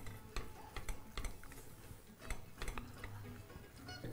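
Chopped parsley and green onion stirred into a hot coxinha filling in a pan: soft scraping and clinking of a spoon against the pan with irregular taps over a faint sizzle, quiet and close, no talking.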